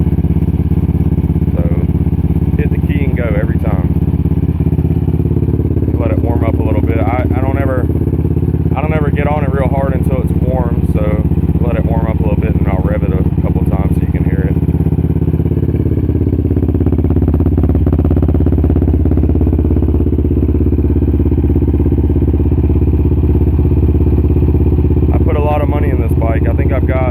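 A modified 2008 Yamaha Raptor 700R GYTR special edition ATV idling while warming up, a loud steady low engine drone throughout with someone talking over it close by.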